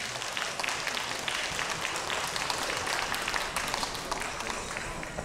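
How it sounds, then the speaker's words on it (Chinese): A seated audience at a Chinese Lunar New Year gala in Montreal claps to welcome a singer to the stage, a dense, even wash of applause that holds steady throughout without a break. "来，掌声有请"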